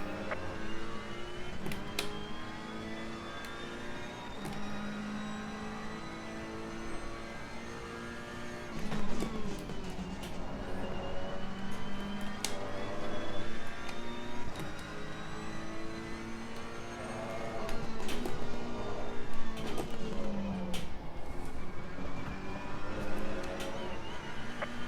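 A Ferrari race car engine in the video game Assetto Corsa Competizione drones steadily through gear changes, rising and falling in pitch as it accelerates and shifts, with quick clicks and whooshes throughout.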